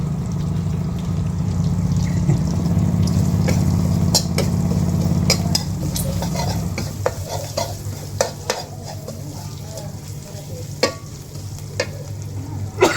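Bird meat stir-fried in a hot pan with garlic and pepper, loud continuous sizzling for several seconds, then a utensil scraping and clinking against the pan as the frying quiets.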